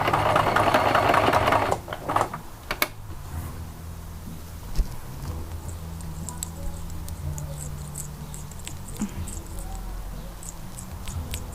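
A sewing machine stitches an appliqué onto terry cloth, opening with a loud, fast run of needle chatter that stops after about two seconds, then scattered soft clicks and handling sounds in a quiet room.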